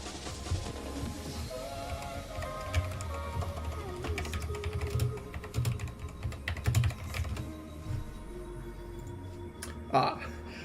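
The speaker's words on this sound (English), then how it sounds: "I realized as I was typing that message" Typing on a computer keyboard, a run of quick, irregular clicks and taps at close range, mixed under quiet talking and soft background sound.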